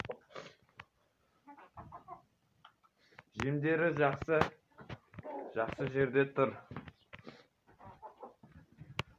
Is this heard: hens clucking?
yes